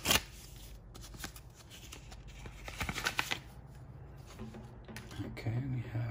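A small mailed envelope holding autographed trading cards is torn open and handled, with papery rustling and crinkling bursts, quiet and close.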